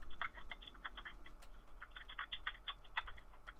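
Fingers tap steadily on a computer keyboard, a close, quiet run of irregular clicking keystrokes with no voices.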